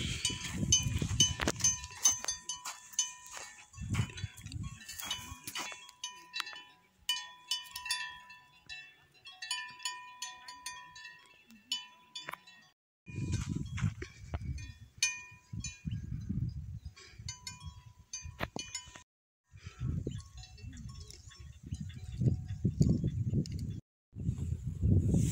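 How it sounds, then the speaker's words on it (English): Grazing cattle in a rural village near Rusape, heard as scattered bell clinks and soft rustling, moderately close, with occasional low murmuring or movement sounds between quieter stretches. "cows out grazing"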